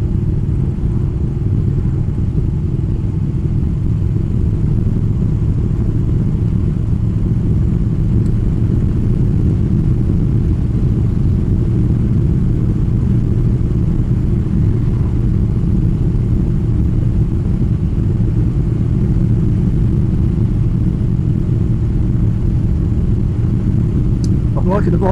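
A Moto Guzzi Breva motorcycle cruising along a country road, its engine a steady low rumble with constant wind roar throughout, sustained and close with no pauses.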